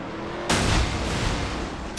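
A race car crashes in a NASCAR-style racing video game: a sudden loud impact cuts in after a brief moment and gives way to a dense, roaring wash of engine and collision noise.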